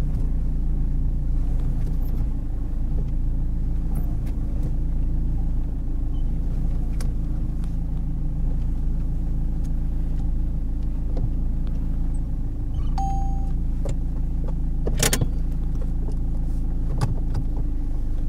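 During a driving test, a car reverses into a parking space, heard from inside as a low, steady engine rumble with a few faint clicks and a brief higher tone.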